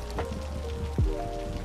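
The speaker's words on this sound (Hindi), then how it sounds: "ओह बारिश हो रहा है।" Steady rain patters across the whole stretch in the city-builder game Cities: Skylines, with a low rumble swelling near the end, constant and fairly loud with no voices.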